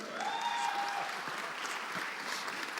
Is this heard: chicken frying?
no